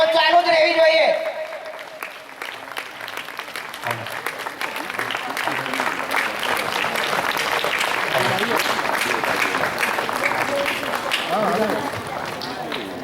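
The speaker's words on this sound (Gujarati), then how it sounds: "આપણે તાળીઓના ગડગડાટથી વધાવી લઈશું" Continuous crowd applause at a parish day magazine launch, swelling after a brief opening of voices and holding steady and fairly loud to the end.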